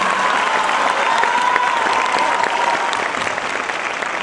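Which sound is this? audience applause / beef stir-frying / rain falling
audience applause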